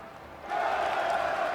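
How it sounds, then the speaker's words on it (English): A video game crowd bursts into applause and cheering partway through an idol's stage performance, a dense steady wash of clapping and voices that stays loud to the end. "As the crowd erupts in applause, the idol smiles and leaves the stage."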